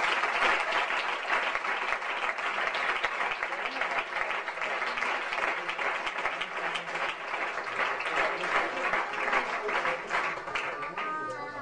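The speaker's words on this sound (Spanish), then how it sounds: "Un aplauso vivo para Él." A church congregation claps and applauds continuously in a dense, steady wash, filling the room from start to finish at a moderate level.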